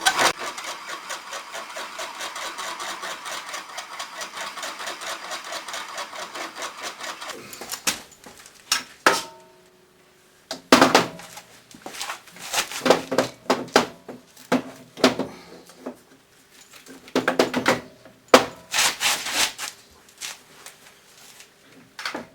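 A drill press re-bores a Kawasaki KX engine crankcase clamped flat on its table, running steadily at first, then breaking into intermittent bursts of cutting and motor noise separated by pauses.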